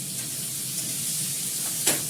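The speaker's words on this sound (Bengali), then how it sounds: "এটা ভাজা হতে থাকবে" Soft, steady sizzling of spices frying in mustard oil, a low continuous hiss with a brief louder crackle near the end.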